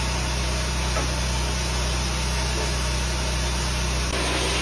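A steady, loud broadband roar of a dog grooming blow dryer drying a Maltese Shih Tzu runs without a break, with a low motor hum underneath.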